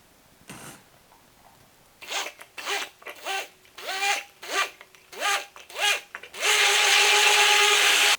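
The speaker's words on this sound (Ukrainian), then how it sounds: "Будемо пробивати все занурювальним блендером до однорідності." A small immersion blender mixing strawberry pie batter whirs in short repeated bursts, about seven pulses, then runs continuously at a higher pitch, loud and close.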